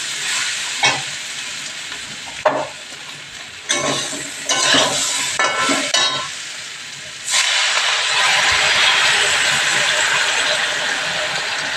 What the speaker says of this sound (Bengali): এখন আমি জল দিয়ে দিই।